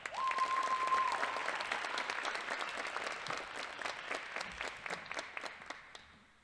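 A crowd at a 2025 four-year athletic letterman awards ceremony applauds student athletes, with sustained, steady clapping that fills the room for several seconds before slowly thinning out and fading.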